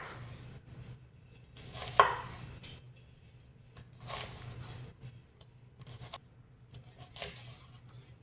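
A knife cuts vegetables on a cutting board, giving a few separate bursts of scraping, rasping strokes with quiet pauses between them, close by and fairly soft.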